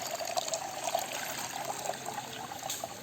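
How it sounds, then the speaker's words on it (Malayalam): Water poured into a hot pan while cooking chicken feet, a steady close trickling and splashing stream that runs evenly throughout with no voices. "ചട്ടി ചൂടായി വെള്ളം ഒഴിച്ചു."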